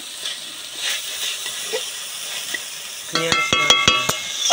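Potatoes fry in a pan over a smoky, open-flame clay stove, giving off a steady, moderate sizzle. Near the end, a few sharp tonal squeaks cut in over the frying.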